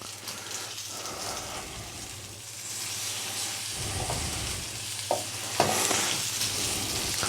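Bacon and scrambled egg frying together in an all-in-one pan for an English breakfast, a steady hissing sizzle throughout with occasional spoon clinks and stirring scrapes, fairly close and with no talk.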